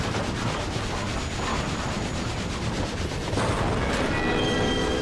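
A train in the Final Fantasy XIV Omega raid gives off a steady, loud rolling rumble with a dense metallic rush that runs unbroken from start to finish, with no talking.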